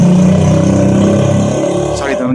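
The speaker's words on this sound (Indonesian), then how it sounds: "ada motor lewat" A motorcycle passing by outdoors, its engine a loud, continuous mid-pitched drone that gradually fades away.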